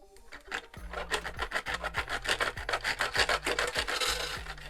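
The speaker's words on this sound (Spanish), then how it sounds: "cualquier tipo serrucho de dientes bien finitos o un cuchillo, un cúter, cualquier cosa os sirve. Cortamos." A fine-toothed handsaw cuts through ceiling moulding in quick, even back-and-forth strokes, a close, raspy rhythmic rubbing that continues steadily throughout.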